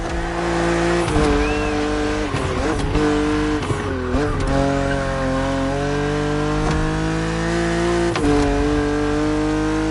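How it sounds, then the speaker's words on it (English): A BMW Z4 coupe cabriolet in The Crew Motorfest drives with a steady, close engine drone that climbs and dips through shifts, plus brief tire squeals along the way. "But you are driving a coupe cabriolet"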